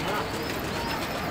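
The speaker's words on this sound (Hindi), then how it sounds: "कैसी लगी हमारी ये रामपुरी कबूतरी" A Rampuri pigeon on a rooftop loft gives a short, soft coo under someone talking nearby, with outdoor background noise.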